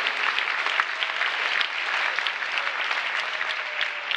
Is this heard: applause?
yes